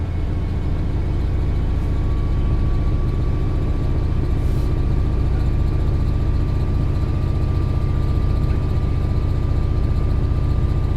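A Southeastern high-speed train running at speed in Train Sim World 4 holds a loud, constant rumble and drone with a thin steady tone on top, alone throughout.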